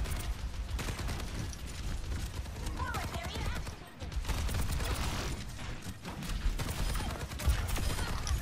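Soldier: 76 gunfire and helix rocket blasts in the video game Overwatch, with dense, continuous rapid shots and mechanical clatter running almost unbroken, a brief lull near the middle, under game effects.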